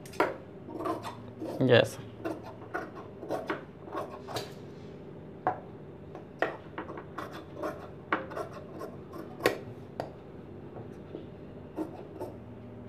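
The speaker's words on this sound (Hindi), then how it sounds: "अब यहाँ पर जो अंदर एक्स्ट्रा कपड़े हैं इन्हें हम पूरा काट लेंगे" Scissors snip away excess fabric inside a stitched blouse seam, producing irregular crisp cuts and rustling cloth, close and moderately loud, with a brief spoken word near the start.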